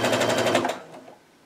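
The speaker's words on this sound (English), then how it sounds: "I'm just gonna go ahead and sew and make sure everything is eased in properly as I" A sewing machine stitches a quilt seam in a fast, even run of mechanical pulses, close and fairly loud, then stops abruptly with a faint trailing clatter.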